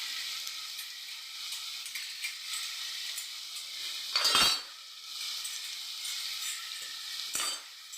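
Bottle gourd curry hisses softly in a pan with a steady, high sizzle, broken by two brief, louder scraping stirs.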